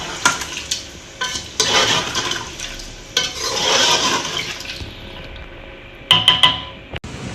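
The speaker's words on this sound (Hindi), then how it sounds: "अब मैं इसमें शामिल करूँगी पानी" Water pours into a pressure cooker of meat and taro root curry, a close rushing and splashing stream that rises and falls in bursts, ending in a few clattering knocks.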